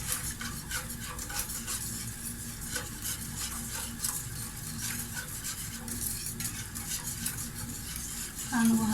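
A spoon steadily stirs thick béchamel sauce in a pot, with soft scraping and a faint sizzle underneath, continuous and close.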